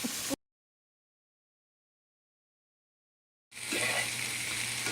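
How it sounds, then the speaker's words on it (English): Green bell pepper, mushrooms, shallots and spinach sautéing in a pan give a brief burst of sizzle, then a long dead silence, then a louder, steady frying hiss with soft stirring. "I am just sauteing up some green bell pepper from my garden, some mushrooms and shallots and spinach"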